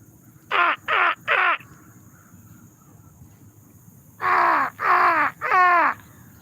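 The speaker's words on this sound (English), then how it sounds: "I can hear one of my crow buddies." Crows caw outdoors in two bursts of three harsh calls each, loud and fairly close, separated by a few seconds of quiet ambient noise.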